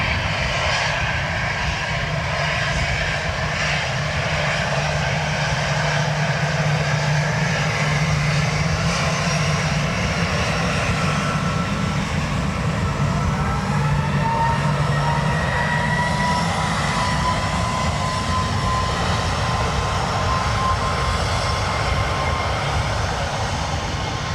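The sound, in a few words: Lufthansa airliner engines at Dublin Airport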